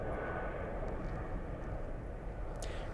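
Airliner taking off at Zurich airport, a heavy continuous low engine rumble and roar filling the scene at a moderate distance, with a few faint higher clicks and no talking.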